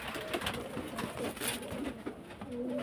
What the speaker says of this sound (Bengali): কালপড়া কালদম পায়রা খুব সুন্দর